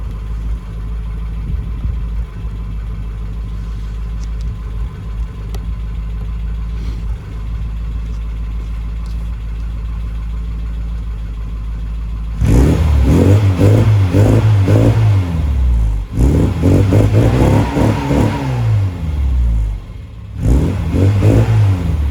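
A 1380cc Mini engine idles with a steady low burble for several seconds, then breaks into loud, repeated revving bursts that rise and fall sharply, close up and alone.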